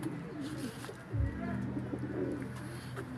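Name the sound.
young pigeons cooing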